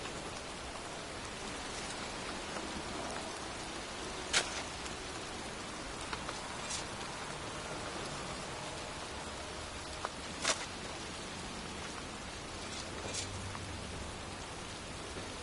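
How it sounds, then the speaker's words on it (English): Pouring rain falls on a cemetery in the video game Heavy Rain, a steady, even hiss of drops with a few sharper splashes and ticks standing out now and then, and no speech. "standing in a cemetery, pouring rain"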